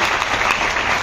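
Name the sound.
audience applause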